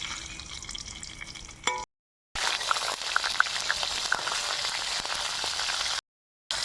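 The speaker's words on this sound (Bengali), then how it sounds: "আর দিয়ে দেব কয়েকটা কাঁচা লঙ্কা চিরা তেলের উপর।" Slit green chillies hit hot oil in a pan and fry with a steady crackling sizzle, broken by two short silent gaps, with a few light stirring sounds.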